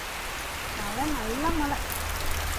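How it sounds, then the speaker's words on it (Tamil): Heavy rain pouring steadily outdoors, with water running off coconut palms and streaming past like a river; a broad, constant hiss of rainfall fills the whole stretch while a person talks over it. "அங்க பாரு எப்படி பெய்யுது மழை"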